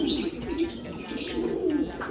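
A pigeon coos close by in a low, rolling, throaty call over steady background noise.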